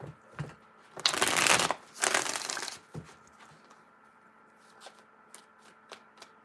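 Tarot cards are riffled and shuffled close by in two loud bursts, followed by softer taps, slides and scattered card handling.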